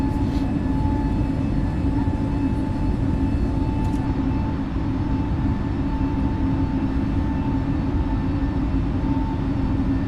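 Steady, loud drone of an airliner's jet engines climbing out over Las Vegas in Microsoft Flight Simulator, a continuous broadband rumble with a faint whine layered on top, unchanging throughout with no talk.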